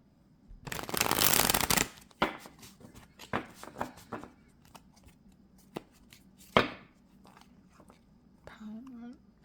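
Tarot cards are shuffled by hand in a brisk riffling burst, followed by scattered soft taps and card handling, with quiet talking in between.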